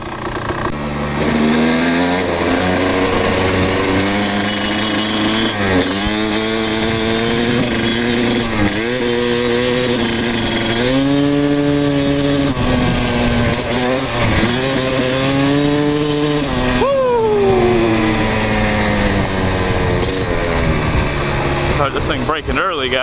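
A Kawasaki KX 250 dirt bike revving hard nearby, its engine rising and falling through repeated throttle blips and sustained high-rev pulls, with someone talking in between.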